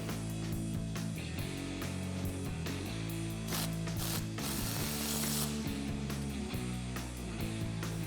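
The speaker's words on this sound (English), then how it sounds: "And tighten it down. You can use either a 13mm or 1/2 inch" Ratchet wrench with a 13mm or 1/2 inch socket tightening a bolt on a Toyota Tundra suspension lift, rapid loud clicking pawl strokes in repeated bursts, close and continuous.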